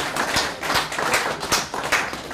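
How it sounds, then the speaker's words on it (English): Light applause from a small conference audience for a presenter, a scattered patter of claps at steady loudness for a couple of seconds. "Please give her a round of applause"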